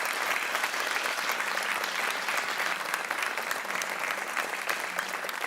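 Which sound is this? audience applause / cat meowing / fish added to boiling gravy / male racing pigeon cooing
audience applause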